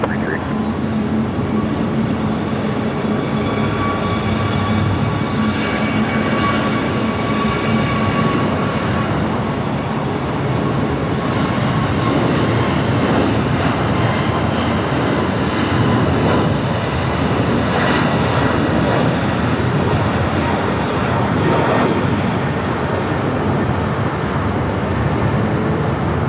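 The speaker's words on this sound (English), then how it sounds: "American Airlines flight 1784 in A321 Neo" American Airlines A321neo jet airliner at Los Angeles International Airport, a steady broad engine roar that holds loud for the whole stretch, with faint voices in the background.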